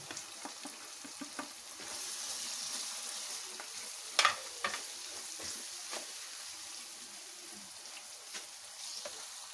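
Tomato masala for dal mash fries in a pan with a soft, continuous sizzle, punctuated by a few light scrapes and clinks of stirring, close and fairly quiet.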